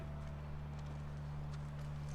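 Horse hooves walk in The Last of Us, faint, soft clip-clop steps set under a constant low hum of game ambience.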